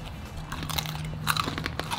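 Someone bites and chews crunchy roast pork belly porchetta, probably in a steamed bao bun, making close, loud crackles and crunches in quick irregular bursts with no talk.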